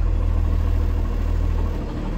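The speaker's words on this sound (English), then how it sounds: "I'm gonna shift into drive, release the parking brake, pull forward at about five miles an hour." A conventional bus engine hums low and steady as the vehicle creeps forward at about five miles an hour in drive, a close, loud, even drone with a slight dip near the end.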